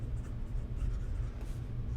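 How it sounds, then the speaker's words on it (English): A Leonardo fountain pen with a medium nib writing on paper makes a soft, continuous scratching and scraping that runs steadily with no talk. "Let's give it a little dab and give it a little writing."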